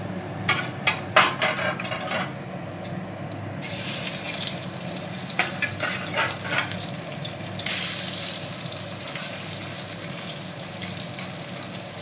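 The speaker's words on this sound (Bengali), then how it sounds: "সব মাছগুলো আমি ভেজে নেব" Bhola fish frying in a pan, a few clacking utensil taps at first, then a constant loud, bright sizzle that continues uninterrupted close by.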